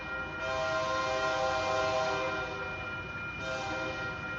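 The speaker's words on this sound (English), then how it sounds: "I can hear the roar of that train, baby." An eastbound grain and mixed freight train passes on a rainy afternoon, a loud continuous roar with a blaring horn that swells and holds steady throughout, no voices.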